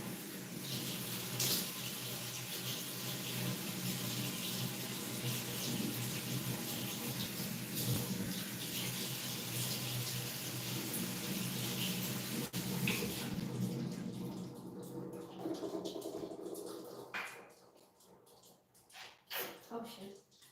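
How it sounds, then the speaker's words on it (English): Tap water running steadily in a sink while a face is washed with cold water, a loud continuous splash that cuts off partway through, leaving quieter handling sounds and drips. "I'm gonna have to go through the whole hustle of washing my face with cold water again"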